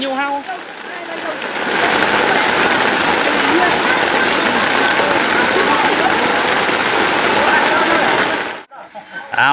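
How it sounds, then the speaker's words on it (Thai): Loud, continuous downpour of a rainstorm in the countryside, rain drumming and splashing on surfaces close by, steady throughout before cutting off near the end. "ฝนตกพายุ"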